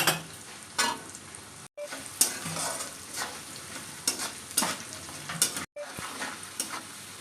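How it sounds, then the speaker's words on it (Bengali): Chopped onions and cumin seeds frying in a pan for an egg curry, a steady close sizzle broken by repeated stirring scrapes and a couple of brief pauses, with no talking. "আর দিয়ে দেব কুচানো পেঁয়াজ, পেঁয়াজটাকে হালকা লাল লাল করে ভেজে নেব।"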